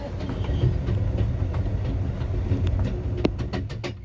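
A passenger train, the Amtrak Southwest Chief, rolls along the rails after leaving a tunnel: a steady loud low rumble heard from inside the car, with faint rhythmic clicks and a sharp clack near the end, and no talking.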